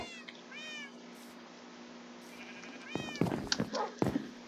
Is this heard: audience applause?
no